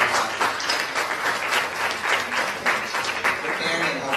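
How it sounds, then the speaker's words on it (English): An audience at a birthday celebration for Swami with East Brunswick and Holmdel Sai Centers applauds the lunch volunteers, a dense, continuous round of clapping, fairly close and steady throughout, with some voices underneath. "Let's give a big round of applause for all the volunteers who"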